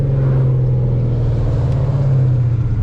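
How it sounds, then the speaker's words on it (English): A car engine fitted with a custom Comp Cam and headers rumbles loudly and close, with a deep, lumpy, pulsing exhaust note during downshifts, heard alone for a few seconds. "Hear these downshifts."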